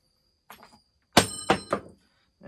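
A metal Allen key drops onto a workbench during work on a McCulloch Super Pro 81 chainsaw, giving a few close, sharp clattering knocks and bounces in an otherwise quiet room.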